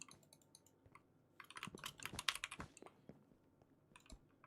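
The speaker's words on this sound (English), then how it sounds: "I like your mouse clicking sounds" Rapid clicking during a Bedwars game, sharp irregular taps in quick bursts, sparse at first, then denser and louder in the middle before thinning out, close and fairly quiet with no speech.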